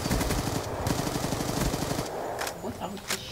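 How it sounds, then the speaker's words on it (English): Rapid automatic gunfire in Call of Duty Black Ops 3, a gun firing into the ground in a loud, fast continuous burst that stops after about two seconds, followed by a few scattered shots. "I was just shooting at the ground."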